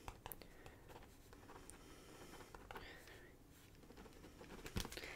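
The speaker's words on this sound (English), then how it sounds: "I'm writing down my photographer's name for you." A pen writes on paper in short scratchy strokes under a steady soft hiss, close and quiet, with a sharper tap near the end.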